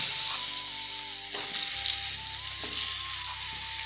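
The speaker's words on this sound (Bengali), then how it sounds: "হ্যাঁ, তো আলুগুলো আপাতত দিয়ে দিই।" Potatoes sizzle and fry in a pan on a gas stove, a steady close crackling hiss that runs continuously, with a low hum and a faint tonal whine beneath and no talking.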